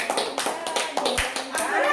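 Scattered hand claps from a small group at a home birthday cake cutting, uneven and close, with people chatting over them.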